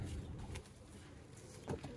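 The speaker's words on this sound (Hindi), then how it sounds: "सियालकोटी छत वाले कबूतर" Sialkoti roof pigeons coo softly at a distance, a low murmuring call with a brief louder flutter near the end, no voices.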